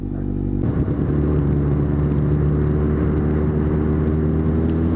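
A motorbike riding on a salt-covered road in near-freezing weather, about one or two degrees, its engine a steady loud rumble with a whirring drone that starts abruptly and holds for the whole stretch.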